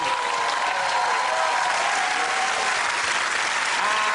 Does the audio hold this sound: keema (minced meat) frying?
no